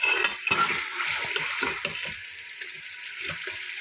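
Masala frying in a pot for lobia chicken, sizzling under repeated scraping and clanking stir strokes of a spoon, close and moderately quiet.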